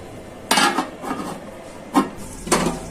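A lid clatters onto a pot of cooking prawns and spinach, giving a few sharp metallic clinks and scrapes close by, with a final clunk as it settles.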